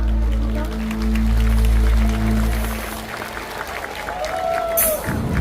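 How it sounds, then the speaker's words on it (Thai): An audience at Wat Pa Lelai in Suphanburi applauds to welcome the young singer Ton Khao, crowd clapping blended with a loud low hum and musical tones, while an announcer talks over it. "เสียงปรบมือดังต้อนรับต้นข้าวสุปริยาชินทุนครับ"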